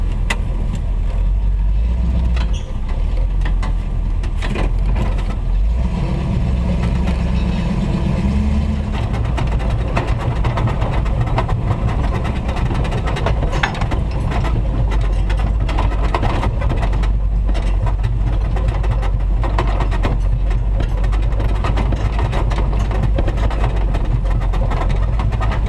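A wrecker truck's engine idles steadily during a vehicle recovery, a loud, close, continuous low rumble with a few brief rattles and shifts in tone across nearly half a minute, with no voices.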